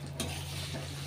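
Mace and similar whole spices dry-roast in a pan for a Kolhapuri onion-garlic masala, with a quick scrape of stirring over a low steady hum and faint sizzle.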